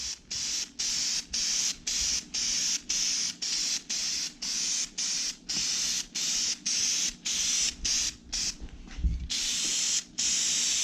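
Orange spray paint is applied in coats onto a metal sign cut on a CNC plasma table, with a quick series of close, regular hissing bursts separated by brief pauses.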